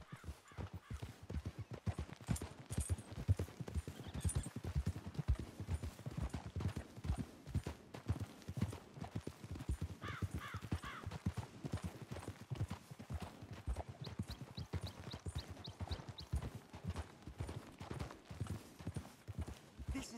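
In Red Dead Redemption 2, steady clip-clop of horse hooves trotting on hard ground, a continuous rhythmic clatter, with a brief crow-like caw partway through.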